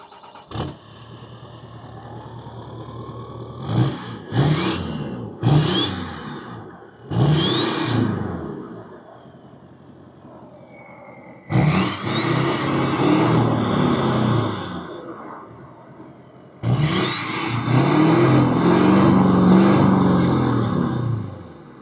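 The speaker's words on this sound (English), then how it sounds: "check out the amazing sounds that this L5P produces" Loud diesel engine of an L5P Duramax truck fitted with an aftermarket RDX turbo, revved in several sharp bursts that climb and fall, each followed by turbo whistle and a lower idle between.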